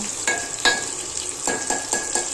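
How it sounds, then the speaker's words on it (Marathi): Onion fries steadily in oil for a mugachi aamti curry, with sharp metallic stirring clinks and scrapes of a spoon against the pan breaking through the constant sizzle at close range. "चांगला कांदा तेलामध्ये फ्राय होऊन द्यायचा आहे"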